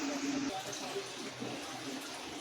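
Water is poured into a wok to boil noodles, a continuous splashing rush lasting a couple of seconds, close and moderately loud.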